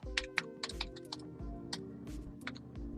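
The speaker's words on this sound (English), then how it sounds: "the crunchy keyboard" Rapid clacky typing on a computer keyboard, close and crisp, with uneven bursts of keystrokes and no talking.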